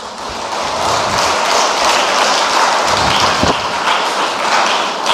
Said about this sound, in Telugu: ఉంటే ఒకసారి చప్పట్లు కొట్టండి